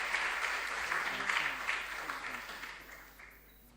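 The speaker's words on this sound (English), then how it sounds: "You don't want to clap for them?" An audience at a junior science and maths quiz bursts into dense, continuous clapping for contestants, steady and fairly loud at first and gradually thinning out, with a brief bit of voice under the opening.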